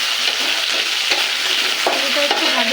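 Diced potatoes fry in oil with cumin and a bay leaf in a wok, a close steady sizzle punctuated by scraping spatula strokes and metallic clinks as they are stirred.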